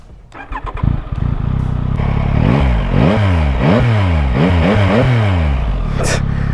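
A 2023 Yamaha MT-09 SP motorcycle engine cranks and fires up, then revs sharply several times in quick bursts before settling back to a rumbling idle.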